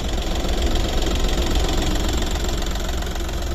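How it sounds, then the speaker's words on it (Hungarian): A Skoda Fabia 1.4 TDI diesel engine idles steadily up close, a continuous even rumble with a slight knocking texture and no talk. "egészségesen dolgozik a motorja"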